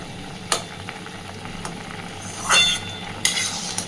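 Potato curry with added water bubbles in a pan, giving a steady close hiss and simmer with a few sharp clinks of stirring against the pan.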